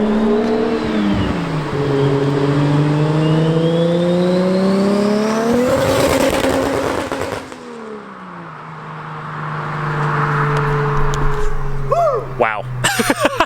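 Duramax diesel pickup with a big S369 turbo accelerates hard, its engine tone rising through gears with turbo whine and a loud whoosh, then settling to a rumble with tire noise; close and loud, with people's voices briefly near the end.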